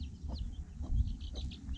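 A broody hen clucks to her chicks in a farmyard, a few short low clucks in quick irregular succession, close and moderately loud, with no voices.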